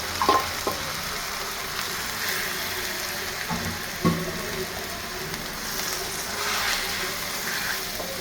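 A tomato, ginger-garlic and spice paste with cinnamon, clove and cardamom powder sautés in a pan for butter chicken masala, giving a steady close sizzle and bubbling broken by a few sharp clicks of stirring.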